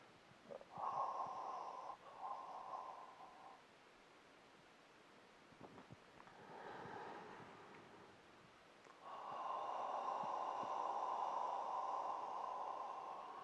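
A slow, audible breath during a qigong heart healing sound exercise, soft airy rushes swelling and fading in separate long waves, close and quiet, with no talking.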